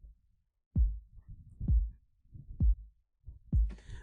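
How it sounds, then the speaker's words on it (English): Four heavy, dense kick drum hits processed with saturation in FL Studio land about a second apart, each a deep thump with a short boomy decay. "you can hear that the kick is more denser and heavier."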